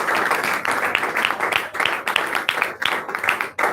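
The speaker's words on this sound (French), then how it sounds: "on peut quand même applaudir pour nos chants aujourd'hui" A crowd applauds after songs at an engineering school conference, dense steady clapping from many hands, near and fairly loud, keeping up without a break.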